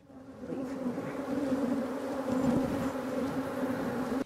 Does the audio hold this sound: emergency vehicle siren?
no